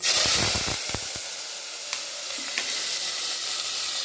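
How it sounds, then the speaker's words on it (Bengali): Water poured into spices frying in a pan, coriander, cumin, turmeric and ginger, gives a burst of loud close sizzling and hissing with a few sharp crackles at the start, then settles into a steady softer sizzle. "দেখো বন্ধুরা, মশলাটা ভাজা হয়ে গেছে। এর মধ্যে আমি একটু জল দিয়ে দেবো।"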